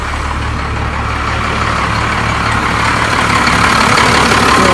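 A first-generation Cummins diesel truck engine idles steadily, a loud, continuous low rumble with a constant rhythmic throb and no voices.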